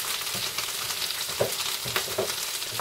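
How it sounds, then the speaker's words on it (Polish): Bacon and eggs fry in a pan with a dense, continuous crackling sizzle, with occasional louder pops and faint utensil scrapes close by. "Tu mam bekon, a więc przechodzimy do smażenia jajek."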